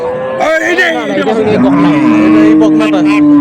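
A dairy cow with her calf at the Ambari cattle market in Dinajpur, a two-tooth-age milker, lets out a long, loud, sustained moo close by, preceded by brief voices and market chatter.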